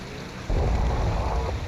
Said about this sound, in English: 3 engines active at the same time is incredibly loud